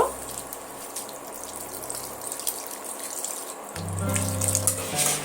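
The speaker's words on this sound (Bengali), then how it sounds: "এবার আমি এখানে পরিমাণ মতন পানি অ্যাড করব" Water poured into a pan of finely ground lentils for egg masoor dal, a steady wet trickling that grows louder and fuller toward the end, with no talking.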